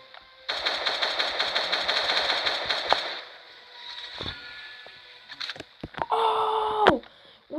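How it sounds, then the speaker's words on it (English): Sustained rapid gunfire from a video game weapon, a loud steady stream of shots lasting about two and a half seconds, then scattered clicks and a short electronic tone, with no talk. "Now it's time to shoot this scumbag."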